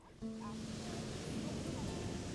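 Ocean waves wash onto a beach with a broad, steady roar of surf that swells gently, heard alone after a faint tone at the start.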